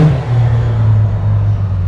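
Can-Am X3 off-road buggy number 613 racing in the SGORA 200 off-road race, its engine a loud, steady droning roar held close for the whole moment with no voices.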